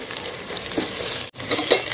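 Ginger garlic paste frying with fried onions in a pot for chicken biryani, a bright continuous sizzle with stirring scrapes and a brief break midway.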